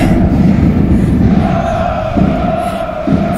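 Paris Saint-Germain fans chant together in a steady, rhythmic roar during a PSG vs Dortmund match, heard from outside the Parc des Princes stadium at some distance amid dense background noise.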